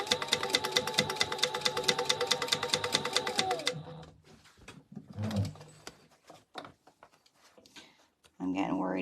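Sewing machine stitching a cushiony book-cover project with boxed corners, a fast steady rapid rattle running loud for several seconds, then stopping, followed by scattered clicks, handling noises and a voice speaking.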